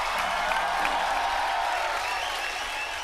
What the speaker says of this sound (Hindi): दोनों के लिए तालियां भाई